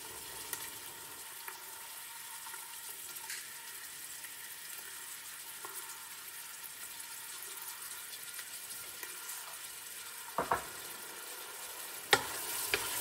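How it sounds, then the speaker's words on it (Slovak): Chopped onion fries in hot rapeseed oil in a pot, a steady soft sizzle running throughout with a few brief clinks and stirring knocks near the end. "Keď bol olej dostatočne rozohriatý, pridal som do hrnca nakrájanú cibuľu."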